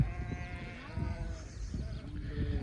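Sheep and lambs bleating in a flock, overlapping wavering calls near and far, with a low rumble of movement underneath and a voice talking faintly.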